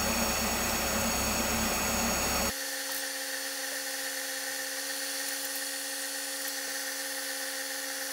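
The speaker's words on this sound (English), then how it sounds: "starting with the first grit, which is 1500. We just start to carefully sand and polish this." Pen blank spinning on a wood lathe while being sanded and polished with 1500 grit abrasive for a Taylors Mirfield Ares ballpoint pen; a loud broadband rush stops abruptly after about two seconds, leaving a steady whining motor hum.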